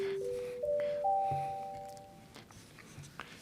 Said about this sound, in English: The division bell will be rung for 5 minutes.